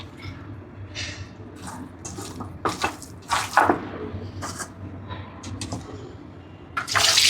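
Running water pours and splashes as one kilogram of village-style mutton is washed by hand at a sink, a steady close stream with louder bursts of splashing.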